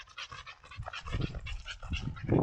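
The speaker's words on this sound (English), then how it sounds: "Getting to see my dog Pippin." A dog panting rhythmically up close on an easy trail run, quick repeated breaths in an uneven pattern, fairly quiet with no talking.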